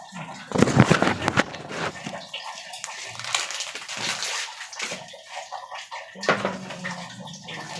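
Water running into a container to be heated for coffee, a strong close splashing gush that settles into a steady pour and then briefly swells again.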